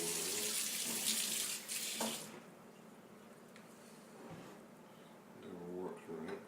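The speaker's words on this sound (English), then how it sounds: "Okay, now fill this up with water." Tap water runs into a jar while making pickles, a steady rushing splash that is loudest at first, then quieter and more hollow, with a brief lull and a swell near the end.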